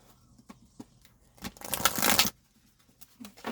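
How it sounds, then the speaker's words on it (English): Tarot cards are shuffled close up: a few light taps and riffles, then one dense burst of rapid card-against-card shuffling lasting under a second, trailing into quiet handling. "I'm being told give it a triple shuffle,"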